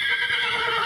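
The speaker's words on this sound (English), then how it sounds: "Very nervous, Winnie, very calling, tail's active" A nervous horse neighs and whinnies loudly and continuously, a high shrill call held close to the microphone with no talk over it.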